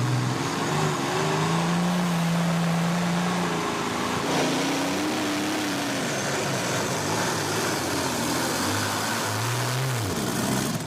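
The De Jong Special, a pulling tractor of about 4,500 horsepower, runs at a tractor-pulling competition: a loud, continuous engine roar whose pitch rises and falls in long sweeps, steady throughout with no talk.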